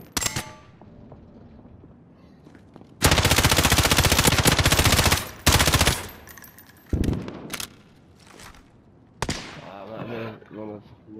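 Ram 7 rifle in a Search and Destroy video game match, firing in loud rapid automatic bursts, one long sustained spray and several shorter ones, with a voice speaking between volleys.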